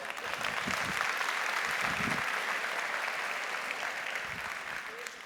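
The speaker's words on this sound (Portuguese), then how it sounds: "Dê uma forte salva de palmas para o Léo" A church conference audience gives Léo a sustained round of applause, a steady wash of many hands clapping that holds evenly throughout, fairly distant and soft, with faint voices beneath.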